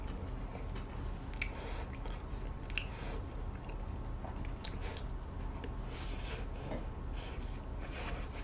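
Chewing of sweet potato and red bean cookies during a mukbang, with soft, steady close-up mouth sounds, small bites and moist squishy smacking running throughout, fairly quiet and alone.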